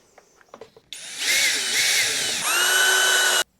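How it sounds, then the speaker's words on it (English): A handheld power drill whirs at high speed for about two and a half seconds, with a brief pitch dip midway, then stops abruptly after a few faint clicks. "Maybe it's better to use a normal drill instead of an impact drill."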